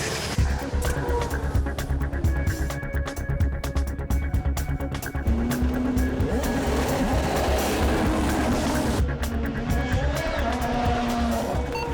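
A race car circling the one-mile Milwaukee oval track, its engine roaring loudly and steadily as it sweeps past, with a rising then falling tone and some voices in the background.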